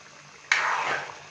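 A cup of whipped yogurt hits beef frying in a handi for beef makhni, setting off a sudden loud sizzle that hisses steadily and then fades slightly.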